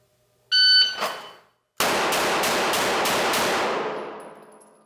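A shot timer beeps and a handgun then fires a quick string of about five or six loud, close shots during a transition drill, each ringing out with echo that tails away.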